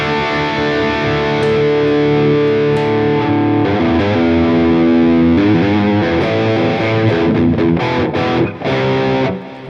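Electric guitar played through a Line 6 HX Stomp running the Helix Revv Gen Purple amp model, thick distorted chords and riffs sustaining loudly and continuously, no talking.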